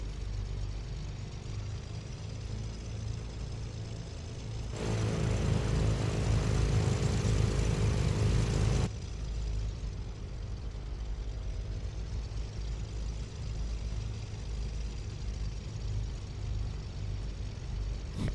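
A steady, loud engine drone with propeller hum from a turbocharged twin-engine Beechcraft Baron 58 taxiing, surging louder for a few seconds in the middle before settling back to a rumbling idle.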